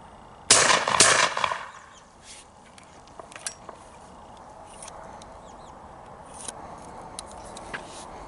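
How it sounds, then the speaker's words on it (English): A 20 gauge shotgun loaded with a CleanShot shoot-through bore cleaner fires one loud, sharp blast outdoors, followed by a short echoing tail and then quiet ambient background with faint bird calls. "All right, we're about to shoot the 20 out."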